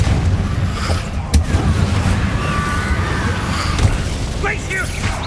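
Fire-blast spell explosions in the wizarding game Hogwarts Legacy boom repeatedly over a dense, rumbling combat mix, with sharp bursts and crackling debris, loud and close throughout.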